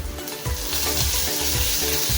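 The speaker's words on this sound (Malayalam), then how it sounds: "കടുക് പൊട്ടുന്ന ടൈമിൽ തന്നെ നമുക്ക് കരിയാമിടാം." Mustard seeds crackle and curry leaves sizzle in hot oil for a Kerala-style banana flower thoran, a loud, steady frying hiss with sputtering pops close by, and no voices.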